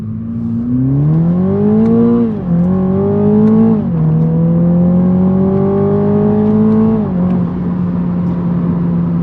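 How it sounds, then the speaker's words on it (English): A Toyota GR Supra with the 2.0-litre engine accelerates in manual mode, its engine note climbing steadily, dipping briefly at two gear changes, then holding a loud, droning pitch before easing off near the end. "I mean, you heard it there, it's very similar. It's that kind of BMW 2-litre M135i sound."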